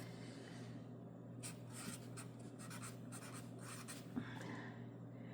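A pen scratching across paper while writing in a gratitude journal, a quiet, close series of short strokes in uneven bursts over a low steady hum.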